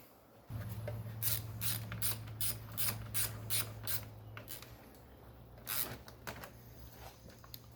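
Wiring connector pressed into a stock fuse block during an LS swap fuel pump install, giving a run of sharp plastic clicks and snaps, close and fairly loud over a steady low hum.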